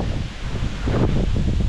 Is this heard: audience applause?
no